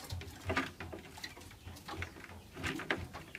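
Small caged songbird, such as a white-eye, moving about a cramped plastic-box training cage, giving soft scattered chirps and fluttering taps close by, with no talk.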